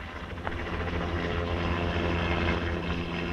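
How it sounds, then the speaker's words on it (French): A civil helicopter passes over the ocean in a 1975 action film, a loud steady rotor and engine drone with continuous low thudding that fills the whole stretch, with no talking. "On dirait un hélicoptère."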